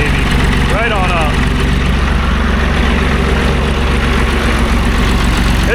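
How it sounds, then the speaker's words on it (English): A John Deere 350C dozer's 3-cylinder diesel idles after a fuel injector and injection pump repair, a loud, steady, even rumble running throughout, with a brief voice near the start. "It's the smoothest 3-cylinder I've ever heard"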